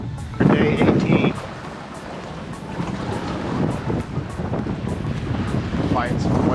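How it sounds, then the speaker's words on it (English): Strong wind buffets a sailboat on the open ocean, day 18 of a Hawaii to San Francisco passage under Hydrovane self-steering, with steady roaring gusts and rushing waves against the hull, a louder burst near the start. "Wind's gripping this morning"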